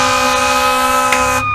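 A toy fire truck siren blares loud and close, a steady electronic wail holding one harmonic tone before cutting off abruptly near the end.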